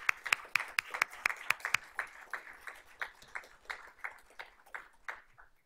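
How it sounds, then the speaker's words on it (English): Applause breaks out at a school board of trustees meeting as a scholarship recipient is honored, a short burst of sharp claps that thins into scattered, slower clapping over several seconds. "So let's give Miss White a round of applause."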